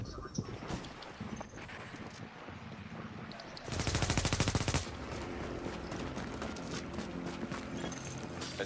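Enemy agents firing in a co-op shooter video game, a sustained burst of rapid automatic gunfire lasting about a second, loud and close, amid other game sounds and scattered clicks.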